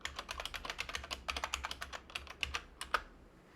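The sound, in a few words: typing a password on a computer keyboard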